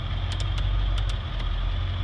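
A 2002 Ford F-250 with a 7.3 diesel engine, full exhaust and tuner, idles steadily up close, a deep continuous growl with a few faint clicks over it.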